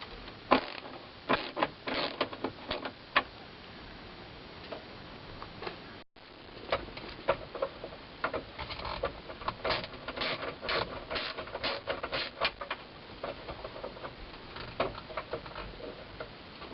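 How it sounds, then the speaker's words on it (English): A ratchet with a swivel socket loosens dash screws on a Chevy C20, heard up close as bursts of rapid pawl clicks with short pauses between strokes. "I'm actually using a swivel socket"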